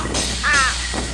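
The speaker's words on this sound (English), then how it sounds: "bomb dropping crows now." Crows caw in the video game Thirty Flights of Loving, a single harsh, rasping call rising clearly over a steady background hum, near and loud, with no talking.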